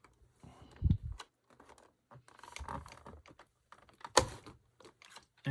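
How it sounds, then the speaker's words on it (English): Plastic floppy drive module sliding and clicking out of the side of an NEC PC-9821Na12 laptop, a few short close clatters and taps, with handling noise around it. "And push that over. Out comes your floppy drive."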